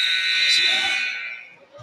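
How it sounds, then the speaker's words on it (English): A basketball scoreboard buzzer sounds a loud, sustained electronic tone to end the third quarter of a prep game, holding for well over a second before fading. "buzzer as the third quarter just ended"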